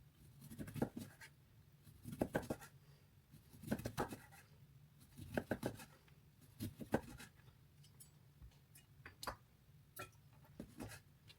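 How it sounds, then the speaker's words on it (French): Small knife slicing through lemons on a board, a series of crisp tapping cuts in short bursts with pauses between them, quiet and close. "Je vais m'armer de mon petit couteau, je vais couper mes citrons"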